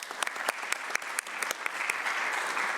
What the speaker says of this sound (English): Could we give Susan a big clap as well?